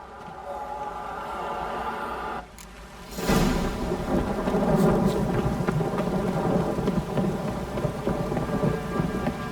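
Steady rain hisses in The Witcher 3, then drops off briefly before a loud crack of thunder rolls in and heavy rain pours on, with rumbling continuing underneath.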